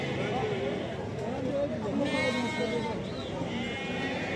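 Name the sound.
lambs bleating at a livestock market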